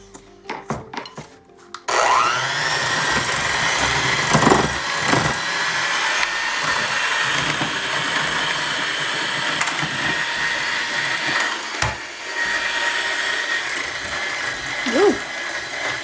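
A handheld electric mixer creaming cake ingredients whines steadily after a brief start, with faint scraping against a bowl and a few small clunks.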